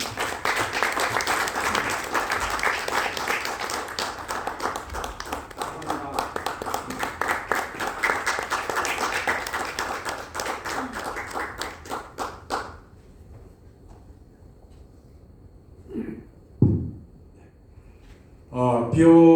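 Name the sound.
audience applauding at lecture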